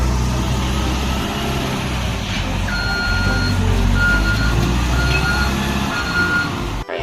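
A remote-control toy bulldozer truck runs with a steady motor hum while its reversing alarm beeps in a repeated, evenly spaced pattern close by.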